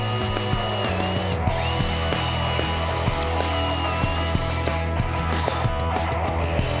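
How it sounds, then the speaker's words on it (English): A power drill with a 3/8 inch bit enlarges a pilot hole in the wooden skull plate of a deer pedestal mount, giving a steady close-up whirring drone with faint ticking, no voices. "use a 3/8 inch drill bit to enlarge one of the pilot holes"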